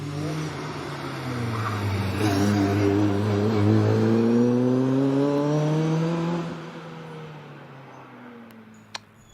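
A 2-litre Caterham 7 race car climbing the hill at Prescott, its engine loud and close as it revs hard through rising gear pulls, then fading quickly into the distance.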